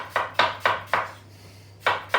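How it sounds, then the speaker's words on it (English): Knife finely dicing half an apple on a cutting board: six crisp chopping strikes in two quick groups with a pause between, close and clear, no voices. "I only need about half an apple. Finely diced."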